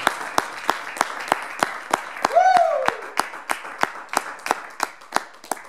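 Rhythmic, steady clapping from a church congregation at a Pentecost service, with a voice briefly calling out over the applause midway.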